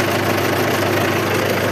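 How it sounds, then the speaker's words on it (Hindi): A tractor engine idles in a village setting, a loud, steady, close-up rumble with an even mechanical throb running unbroken throughout, no voices over it. "तो अब मैं आऊँ यहाँ पर ट्रैक्टर चलाने।"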